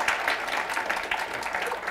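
Steady applause from an audience at a talk on Atlantic salmon, a dense, even wash of clapping sustained throughout without a break.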